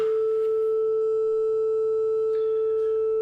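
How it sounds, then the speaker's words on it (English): A pure 440 hertz sine tone plays steadily and alone for about three seconds, clean and unwavering at a constant level. "So let's start with just a 440 hertz tone."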